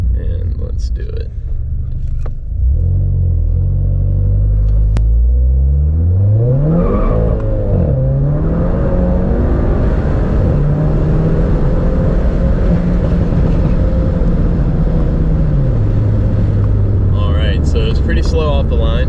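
Stage 2 tuned VW MK7 GTI accelerating hard from a standstill, its engine climbing through rising revs with gear shifts, loud from inside the cabin, droning at high rpm before easing off.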